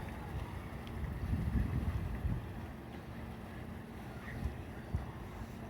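A boat comes in at the docks, heard as a low, rumbling engine drone under gusty wind, steady with a few soft bumps and swells.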